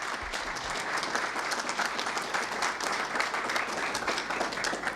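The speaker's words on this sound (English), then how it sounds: "So guys, give them some love, some applause." A crowd applauds after a talk at a cryptocurrency convention in Europe, with dense continuous clapping from many people that stays loud and steady throughout.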